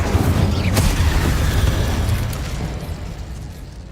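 A heavy, booming blast from the Incendio fire spell in Hogwarts Legacy: one loud burst with a sharp crackle near the start, then a roaring rumble that slowly fades, with no voices.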